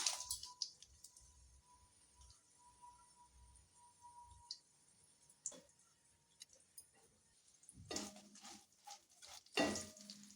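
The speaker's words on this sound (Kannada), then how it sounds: "ಮೆಣಸಿನ್ಕಾಯಿ ಪಲಾವ್ ಎಲೆ ಜೀರಿಗೆ ಏಲಕ್ಕಿ ಲವಂಗ ಮತ್ತು ಚಕ್ಕೆ ಇದಿಷ್ಟು ಒಗ್ಗರಣೆಗೆ ಹಾಕ್ತಾಯಿದ್ದೀನಿ" Whole spices (green chillies, bay leaf, cumin, cardamom, cloves and cinnamon) tempered in hot oil for an egg masala give a faint, steady sizzle, with louder clattering bursts of frying and stirring toward the end.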